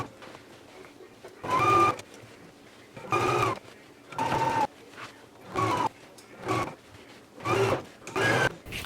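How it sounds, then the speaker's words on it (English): A sewing machine stitches jacket sleeves in with repeated bursts of fast whirring motor noise, each lasting about half a second to a second, separated by short quiet pauses, close and moderately loud. "go ahead and take it to the machine and sew them in"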